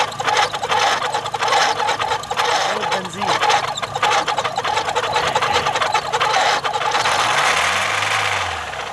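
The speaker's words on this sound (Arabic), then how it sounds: "فده بينتج عنه صوت صفاره اثناء تشغيل التكييف العربيه او في بدايه تشغيل العربيه" A loose car air-conditioning belt slips on its pulley, giving a harsh, pulsing mechanical squeal with the engine running close by, and a chirping sweep near the end.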